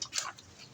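A family dog gives one brief, thin yelp or whine, fairly faint and quickly fading over a quiet background.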